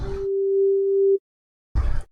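Filtered noise from the ZynAddSubFX subtractive synthesizer with a very narrow bandwidth, heard as a pure, steady single tone held for about a second, then cut off, followed by a short, broader noisy burst.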